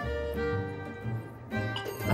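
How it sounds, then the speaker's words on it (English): Faint tonal buzzing noise with steady pitched harmonics, coming from the SIO port of an Atari 400 computer while it loads, with brief dips and bursts in level. "that sound you're hearing looks like it's coming off of the SIO port."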